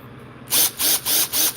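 A rotating drill bites into material in four short, loud bursts of whirring and grinding, each roughly a quarter second, after a brief quiet start.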